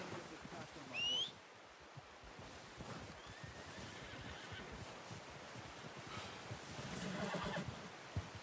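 In the Red Dead Redemption 2 game, a horse gives a short high whinny early on, followed by quieter snorts, shuffling and hoof movement against an outdoor wind-like background.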